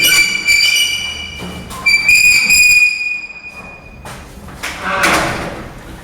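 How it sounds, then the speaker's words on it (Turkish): A door is slid and shut on a film set behind the scenes, with scraping, squeaky whistle-like rolling tones, a couple of knocks and a final soft thud, fairly close and loud. "Kapıyı kapat."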